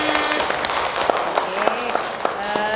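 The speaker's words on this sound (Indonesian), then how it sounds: "Tepuk tangan buat semuanya." Applause from a group, likely children, at a Ramadan kitab recitation session led by an ustazah, with scattered, uneven clapping mixed with voices and chatter throughout.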